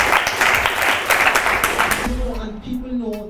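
An audience breaks into a round of applause at a music industry talk, with dense clapping for about two seconds before it thins out and a voice starts speaking over it.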